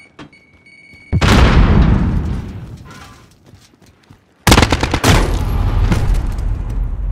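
A grenade blast and gunfire in Call of Duty: Modern Warfare, on the Atlas Superstore map. A loud explosion hits with a long decaying rumble, and a second loud burst follows, with rapid gunshots crackling on to the end.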